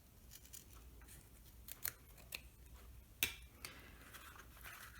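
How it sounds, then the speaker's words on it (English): Quiet, close snipping of scissors trimming zipper tape, a few distinct cuts scattered over a faint background hiss. "you're going to trim your zipper tape so that it's even"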